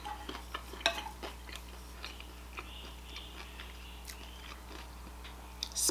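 Crunchy shrimp salad with avocado, feta cheese and grapes being chewed up close, giving soft irregular crunches and clicks over a quiet steady background hum, with no talking.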